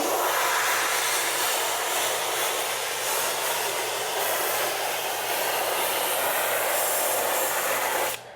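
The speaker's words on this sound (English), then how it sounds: "I'm going to agitate it using the pressure washer" A pressure washer sprays cleaner during car detailing, producing a loud, steady, close hiss that continues without a break and cuts off at the very end.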